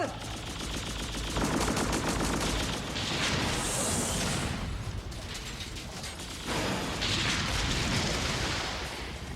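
Weapons fire on command during an animated battle scene: rapid mechanical bursts of gunfire rattle loudly and continuously, with sweeping swells of energy blasts and whooshes layered through the barrage.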